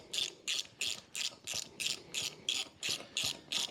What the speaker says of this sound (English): then tighten your other bolts back here